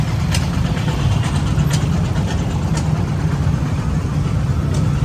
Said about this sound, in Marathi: हा ना ट्रॅफिक इकडे खूप जास्त असतं